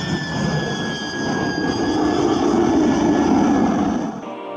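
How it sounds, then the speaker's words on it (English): Lockheed U-2 Dragon Lady, a single-jet-engine high-altitude reconnaissance aircraft, roars steadily at close range with broad jet rumble and a faint high whine, swelling slightly before cutting off abruptly near the end. "The Lockheed U-2, nicknamed Dragon Lady, is an American single-jet engine, high-altitude reconnaissance aircraft"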